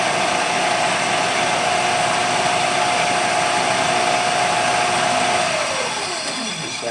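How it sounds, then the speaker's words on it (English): A small drill whines steadily while boring through the bottom of a Berdan primer to remove its anvil, a loud even motor hum that holds for about five seconds before winding down and stopping. "drill right through the bottom of the primer, and I'm going to remove that anvil"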